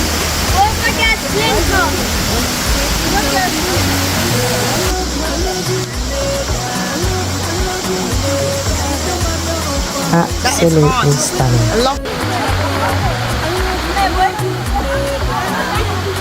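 Mt Carmel waterfall in Grenada roars loudly and continuously, a dense steady rush of falling water that fills the whole scene, with people talking briefly over it.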